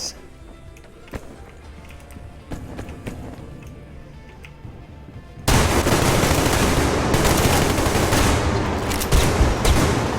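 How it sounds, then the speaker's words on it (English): Gunfire in the Survarium online shooter video game: scattered single shots over background ambience, then a sustained loud burst of close automatic fire and shooting for the last half. "My teammate actually shot me right there"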